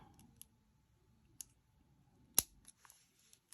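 Small cutters snip through a short piece of beading wire in one sharp, close click, with a few lighter ticks and handling taps around it in an otherwise quiet room.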